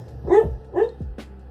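A pet dog indoors gives two short, close barks followed by a softer yip, under a quiet room hum with no talking.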